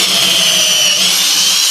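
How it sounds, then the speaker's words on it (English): A power drill with a standard 3/8 drill bit whines loudly and continuously at close range, a steady high-pitched drilling sound with no talking. "you use just a standard 3/8 drill bit"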